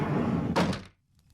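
Wooden shrine door in a Japanese folk tale being opened, a single close clattering thunk over a musical background that then drops to near silence.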